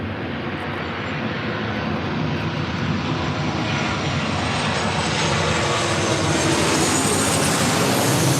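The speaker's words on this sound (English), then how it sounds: "Next arrival is Delta Airlines Flight 1530, coming in from Seattle on a 737-900ER." Broad, continuous jet engine roar from a Delta Airlines Boeing 737-900ER arriving at LAX, loud and close, swelling slightly as the aircraft passes, with no voices.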